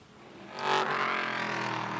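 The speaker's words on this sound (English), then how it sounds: "Oh, that 911 sounds great." A Porsche 911 race car at the Circuit of the Americas during Lone Star Le Mans qualifying, its engine swelling into a loud, sustained high-revving howl that holds steady after a quick rise from a quieter background.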